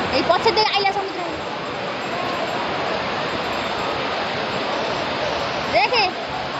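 Sea waves at Puri Golden Beach roll in as a steady, loud, broadband wash of surf, with voices talking briefly at the start and near the end.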